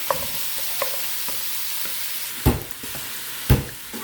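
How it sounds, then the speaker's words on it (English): Diced onion and sausage cook in a pot with a steady soft sizzle, broken by a couple of sharp clanks and scrapes of a utensil stirring against the metal. "you're going to add in your diced onion and start to get that browned as well"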